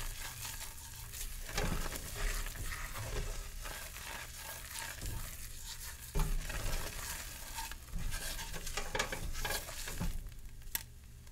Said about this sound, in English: Just boil that for a little bit, maybe a minute or two, till it thickens up a little bit.